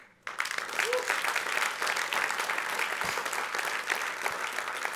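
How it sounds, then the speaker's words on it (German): A live audience claps steadily and evenly for several seconds, dense and moderately distant, with no voices over it. "Schön, dass ihr immer so schön klatscht."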